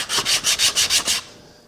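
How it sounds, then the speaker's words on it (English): Rhythmic back-and-forth rubbing of a sanding block on wood, six quick even strokes, close and fairly loud, then it stops. "So I'm just going to use this little sanding block"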